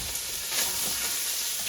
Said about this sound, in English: So we're going to go ahead and fry up the kielbasa.